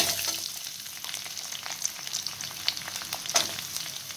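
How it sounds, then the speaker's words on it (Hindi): Onions fry in a kadhai with a steady, close sizzle and crackle, plus occasional stirring scrapes, lasting throughout with no talking. "पहले हम प्याजों को हल्का सा फ्राई करेंगे।"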